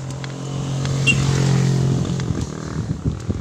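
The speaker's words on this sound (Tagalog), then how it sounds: "Sinundo na ng motor yung mga kasama niya." Motorcycle engine on a steep uphill mountain road near San Ysiro falls, a steady droning hum that swells as it nears and then fades with rougher sputtering, heard alone without talk.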